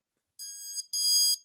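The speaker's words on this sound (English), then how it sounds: "if the power were to go off, you basically have an alarm that goes" A plug-in power outage alarm in a wall outlet sounds two loud, high-pitched electronic beeps, a shorter one followed by a longer sustained tone, alone with no talk.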